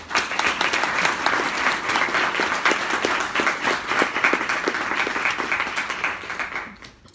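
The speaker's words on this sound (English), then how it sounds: "I think that's something we should clap about now" Steady applause from an audience at a school fall athletics celebration, dense clapping sustained throughout at an even loudness before tapering off at the very end.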